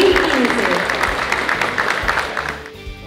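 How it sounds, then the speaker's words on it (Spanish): Applause from a crowd at the Hábitat 2015 trade fair, dense clapping with a voice briefly heard at the start, tapering off near the end. "Un aplauso para Habitat 2015."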